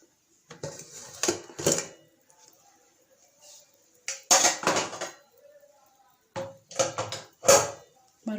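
A pressure cooker lid is opened after cooking mutton biryani in Dindigul Thalappakatti style. Several close metallic clanks and clatters come in short bursts, separated by brief quiet gaps.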